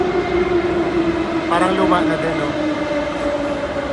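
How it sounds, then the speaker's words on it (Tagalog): A train rumbles and screeches through a station, a steady loud roar with a brief metallic squeal, while a person speaks over it. "Grabe naman yung tunog ng train."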